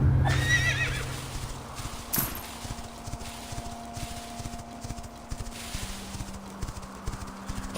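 Horse in the Quinfall video game gives a loud whinny at the start, then its hooves clip-clop in a steady running rhythm over game ambience with a low tonal hum.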